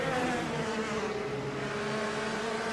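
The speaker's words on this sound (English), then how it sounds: "the car sounds are definitely the weakest part of the mod" Indycar racing engine from the Assetto Corsa URD mod, a steady loud droning whine held at near-constant pitch throughout, with no talk.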